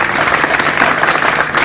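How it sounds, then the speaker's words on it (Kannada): Dense, steady applause from an audience honours teachers and children at a government high school nutrition-campaign event, loud and close and lasting the whole moment. "ಶಿಕ್ಷಕರಿಗೆ ಮತ್ತು ಮುದ್ದು ಮಕ್ಕಳಿಗೆ ಒಂದು ಚಪ್ಪಾಳೆ ಬರಬೇಕು ಅಂತ ಕೇಳ್ಕೊತೀನಿ"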